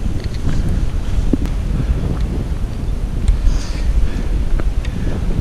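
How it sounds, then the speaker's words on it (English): Strong wind buffets the microphone outdoors on the water during early-morning pike fishing, a loud, steady roar with gusty rumbles and no talk. "as you can hear, the wind is absolutely terrible"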